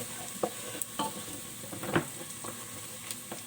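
Onions brown in butter in a pan with a soft, steady sizzle, broken by occasional clinks and scrapes of stirring, close and fairly quiet.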